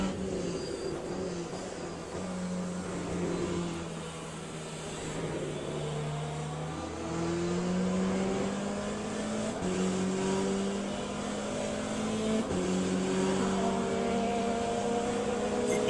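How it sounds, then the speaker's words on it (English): Hypercars in the Le Mans Ultimate racing game, among them a Porsche, drone past in a string of rising and falling engine notes, a moderately loud layered race-car whine with no voices. "That's something else too, to hear these hypercars go by."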